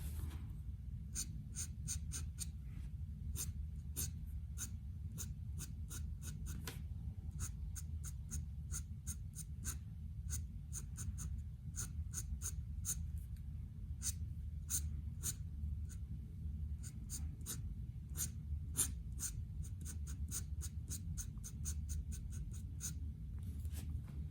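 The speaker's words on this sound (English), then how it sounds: "when you're using nibs, this is sort of the sound that it's actually going to make against the paper, that scratching sound" A dip pen nib scratching on paper while inking a dragon drawing, rapid bursts of dry, close scratchy strokes repeating in irregular clusters over a faint low hum.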